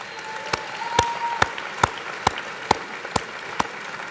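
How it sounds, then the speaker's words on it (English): Graduates at a university winter commencement clap for the faculty, a broad wash of applause from a large crowd punctuated by a regular series of sharp, close individual claps about every half second. "Would you please, graduates, give a round of applause to the faculty for everything they've done for you?"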